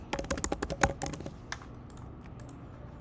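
Keys clatter in quick, uneven bursts on a computer keyboard as a chart title is typed into a spreadsheet dashboard, close and fairly quiet, tapering off toward the end with no talk.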